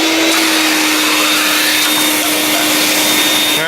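A Vax 221-07 wet/dry vacuum cleaner runs loud and steady with a constant motor whine, the tone dipping briefly near the end as the suction changes.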